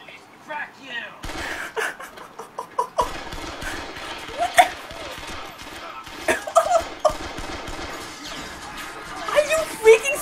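Gunfire in the action comedy Kung Fury, bursts of shots and crashes scattered through loud movie dialogue and music, with people talking over it.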